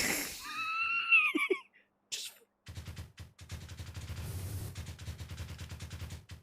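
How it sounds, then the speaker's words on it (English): A semi-automatic power washer in the game Power Wash Simulator fires in a rapid, rattling burst of pulses after a voice makes a squeaky, wheezy vocalization; the spraying runs steadily and fairly loud. "Semi-auto power washer."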